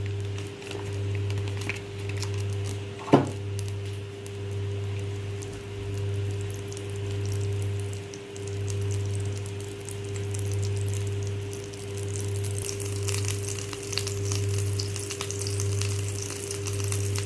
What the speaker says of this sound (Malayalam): പാന് ഹീറ്റായതിനു ശേഷം കുറച്ച് ബട്ടർ അതിനകത്തിട്ടിട്ട് നമുക്ക് സോസേജ് ഫ്രൈ